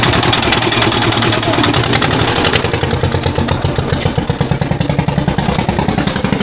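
A large river boat's engine runs at close range in Murshidabad, a loud, steady, throbbing chug with rapid rhythmic pulses and a metallic clatter that continue without a break.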